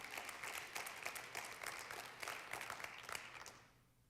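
A church congregation applauds during a sermon, a faint, sustained patter of many hands that holds steady and then fades out over the last half second.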